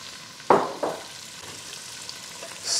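Onion drops into a pot of melted butter and avocado oil with a sudden sharp sizzle and clatter, followed by a second stir-scrape, then a low steady frying hiss continues close by.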